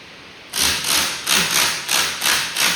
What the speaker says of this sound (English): he's using that electric torque wrench